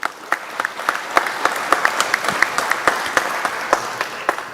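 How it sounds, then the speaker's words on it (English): An audience at a 2024 general election candidate forum for Emmet and Charlevoix counties gives steady applause, with dense, continuous clapping and a few sharper claps standing out. "please give them a round of applause one more time"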